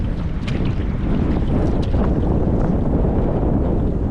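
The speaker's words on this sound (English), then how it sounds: "when it gets windy like this" Strong wind roars steadily around a solo canoe paddled in gusty conditions on open water, loud and constant with buffeting against the microphone and faint splashes underneath.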